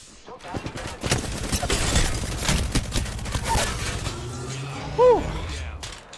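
A shootout in a late-night video game, with bursts of rapid gunfire, mechanical clatter and a sharp ricochet-like whine near the end, while a voice talks over the action.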